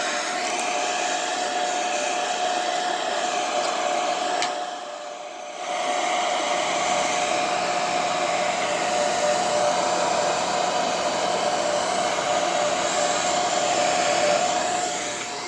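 A heat gun blows a steady, loud whirring hiss over poured paint on a wooden flower, dipping briefly for about a second midway before resuming continuously to the end.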